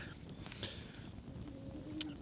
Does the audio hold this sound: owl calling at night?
yes